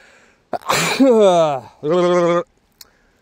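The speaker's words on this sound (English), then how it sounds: "I'm going to sneeze" A person sneezes outdoors at a gold-panning spot, a sharp intake and burst followed by a drawn-out voiced tail and a second voiced exhalation, close and loud, with a brief click at the end.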